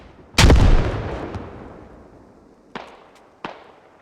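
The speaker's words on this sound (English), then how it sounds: "Well, that's a nade" A grenade explodes in the tactical shooter Squad with one loud, close blast whose rumble fades over several seconds, followed by two sharper distant bangs.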